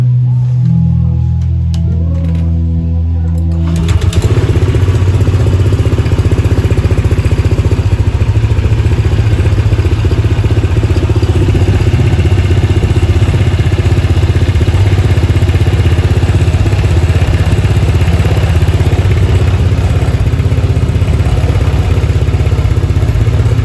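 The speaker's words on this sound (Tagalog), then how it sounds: "So start natin yung motor natin." A Honda Click 160 scooter engine starts after a few seconds of quieter rumble, then idles steadily with a constant low chugging hum.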